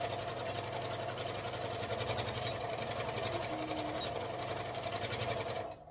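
A sewing machine stitches a tablet sleeve with cotton thread in a fast, even, continuous whir of rapid needle strokes. It stays loud and close throughout, then stops abruptly at the end.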